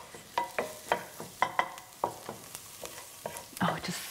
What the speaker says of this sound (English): So we just give this a little stir now.